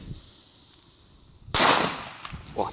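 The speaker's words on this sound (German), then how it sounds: "Boah, die sind noch laut." One loud, sharp blast from a Comet Blizzard firecracker erupts after a quiet pause, followed by a brief rumbling tail and faint scattered crackles.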